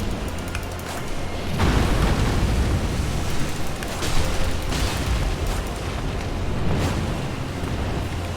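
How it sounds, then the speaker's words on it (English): Fire-breathing dragon in the Elden Ring video game, a loud continuous roaring rush of flame with heavy low rumble, swelling after a moment and holding steady with a few booming surges, no voices over it. "the other one is like flying in a straight line and like breathing fire in"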